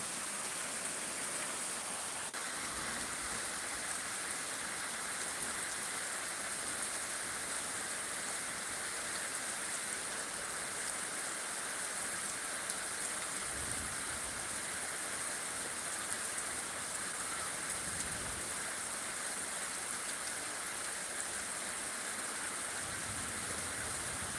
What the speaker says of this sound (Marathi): जोरदार पावसानं दुपारनंतर एक तासभर जबरदस्त पाऊस पडत आहे